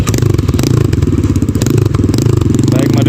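A Kayo T2 dirt bike engine runs during a test ride, a loud, close, rapid pulsing thrum with steady rhythmic clatter, continuous throughout.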